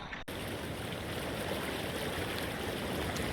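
River water rushing steadily around someone walking through a river, a dense, continuous broadband roar that stays loud and close throughout with no voices.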